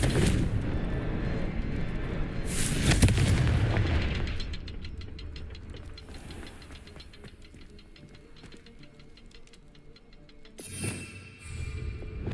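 Confringo blast spell firing in the Hogwarts Legacy video game, a loud booming burst followed by crackling debris and rumble, with a second sharp impact near the end and no talk.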